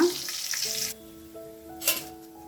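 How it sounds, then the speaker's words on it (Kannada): Wheat flour dough fries in a pan, a brief hiss of sizzling that fades after a moment and flares again shortly afterward, with steady tones underneath. "ಇದನ್ನು ಈ ಥರ ಫ್ರೈ ಮಾಡ್ಕೊಂಡಿರೋದು"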